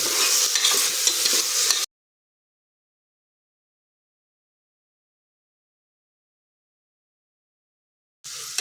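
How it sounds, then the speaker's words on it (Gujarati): Carrots and other vegetables stirred in a pot for wheat khichdi, a short burst of close scraping and light sizzling, then a long silence and a brief return at the end. "બધું જ આપણે મિક્સ કરી લઈશું।"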